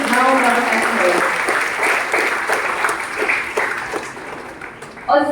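Audience applause at the inauguration of an educational society's platinum jubilee, a dense, steady clapping that fills the room and continues throughout, with a slight swell near the end.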